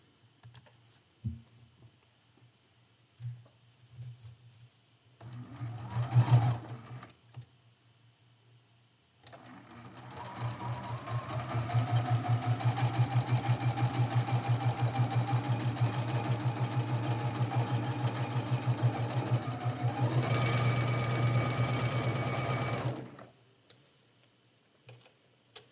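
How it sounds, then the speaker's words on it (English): A sewing machine stitches a quilt seam, starting with a couple of short bursts and then running steadily for about fourteen seconds at close range with no talk. "And we're going to sew that seam."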